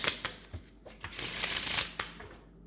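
Oracle cards being shuffled up close, a series of crisp riffling snaps building into a dense papery flutter, then a few final taps.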